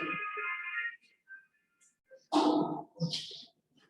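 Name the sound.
phone ringtone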